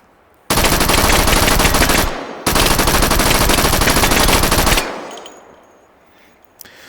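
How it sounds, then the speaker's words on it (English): A Thompson submachine gun in Battlefield 1 fires two long, loud full-auto bursts separated by a short pause, the second ending in a fading echoing tail. "the Thompson has a pretty good fire rate, provided you're not firing it single"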